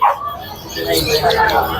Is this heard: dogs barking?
yes